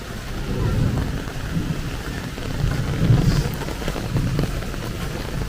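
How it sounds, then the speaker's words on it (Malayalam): Heavy rain pours steadily and loudly outdoors, a dense continuous hiss with low rumbling swells that suggest thunder, with no talking over it. "നല്ല മഴയാ, ഇടിയുണ്ട്,"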